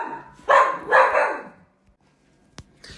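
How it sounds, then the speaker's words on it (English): A dog indoors gives two loud barks in quick succession, then a pause, a single soft thump and a faint yip near the end. "Sorry, that was my dog."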